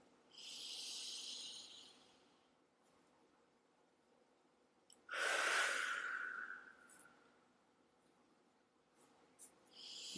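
Slow, soft breaths during a guided meditation: a long quiet inhale, a pause, then a fuller exhale that swells and fades, with faint small rustles between.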